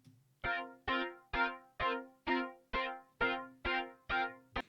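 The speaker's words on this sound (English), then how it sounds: "And this is just the DX7 sound isolated." Yamaha DX7 piano sound played alone, ten evenly spaced repeated chord stabs with bright bell-like attacks and short decays, clean and moderately loud.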